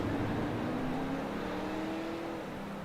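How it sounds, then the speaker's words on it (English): Race cars on a short track at a rough restart spin their tires with a steady, droning engine roar and a sustained whine, loud and continuous for a few seconds. "A couple cars spinning tires here."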